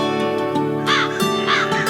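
Several crow caws ring out in irregular bursts over a steady background hum, with no talk during them.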